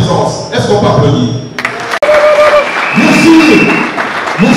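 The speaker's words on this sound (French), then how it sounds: "Est-ce qu'on peut applaudir?" An audience breaks into applause at a public address honouring a political figure, loud and close, with a sharp crack midway and a voice speaking over the clapping.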